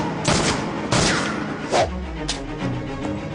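Gunfire in a Hindi-dubbed South Indian action movie starring Rajinikanth: several loud, close bursts of shots crack out in quick succession, with short gaps and rumbling echoes between them.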